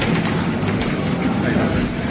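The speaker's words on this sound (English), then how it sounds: "Well, I hear the train coming." An approaching train at an Amtrak station, a steady broad rumble with faint clickety-clack, continuous and fairly loud with ambient platform noise.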